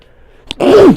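A single sharp sneeze, a quick breathy intake followed by a loud, voiced burst, close to the microphone.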